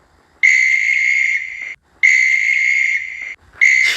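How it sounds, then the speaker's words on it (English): A railway guard's whistle blows at a train stuck in a tunnel: three long shrill blasts, the first two over a second each, with short gaps and the last one cut off, loud and close. "The guard blew his whistle until he had no more breath, but Henry still stayed in the tunnel"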